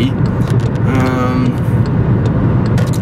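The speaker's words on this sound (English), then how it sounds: "There's a truck coming up. I'm gonna pass that SOB." A car cruising on a highway pulls out to pass a truck, steady loud engine and tyre roar filling the cabin close up without letting up.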